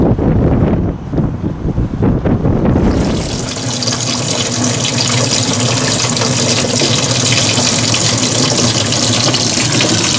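Water rushing into a travel trailer's freshwater tank, a loud, steady gushing flow that starts after a few seconds of rougher splashing and continues unbroken to the end.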